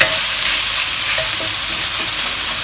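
Minced meat stir-fries in a pan for Singapore-style sizzling egg tofu, a loud constant sizzle with faint scraping and stirring from the spatula, no talking.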